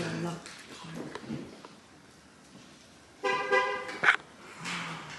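A car's horn gives a short chirp as the car is locked, a brief bright toot that stands out over quiet outdoor background, with voices talking faintly around it.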